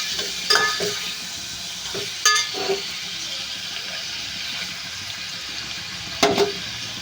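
Raw prawns frying in a hot pan, a steady soft sizzle with a few sharp clinks of a utensil against the pan scattered through, close and moderately loud.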